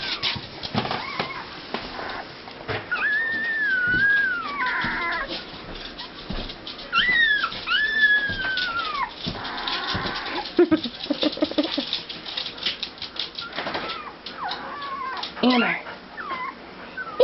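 Dogs whine and whimper in rising, wavering high cries, several drawn-out calls close by, mixed with a person talking.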